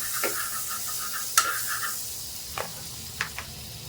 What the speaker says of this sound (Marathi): इथे मी पॅन गरम करून घेतलेला आहे. तर यावर मी लावणार आहे थोडंसं बटर.